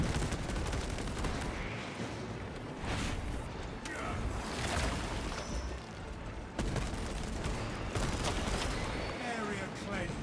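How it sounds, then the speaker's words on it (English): Rapid heavy bolt rifle fire in the video game Space Marine 2, dense loud bursts and explosions with brief gaps, under occasional voices. "Look at the accuracy of the heavy bolt rifle. We can run and shoot."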